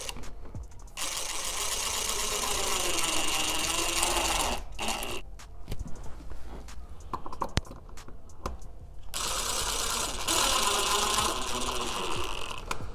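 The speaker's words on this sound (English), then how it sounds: "we're gonna add the self-tapper screws all along the front to finish closing the remaining gaps" Self-tapping screws driven into a carbon fiber front lip on an F90 M5 CS, with a power driver whirring in bursts of a few seconds, pausing between screws, close and fairly loud.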